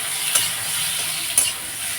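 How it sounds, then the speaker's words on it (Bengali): Mango chutney cooks in a pan with a steady bright sizzle, broken by two distinct scraping stirs about a second apart, close and continuous without talking. "এখন আমি রান্না করছি আমের চাটনি।"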